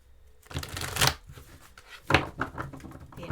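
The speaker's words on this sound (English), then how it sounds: "I'm going to use this deck here." A tarot card deck is shuffled close up in quiet surroundings, with two distinct riffling bursts of flicking cards and softer handling noises between them.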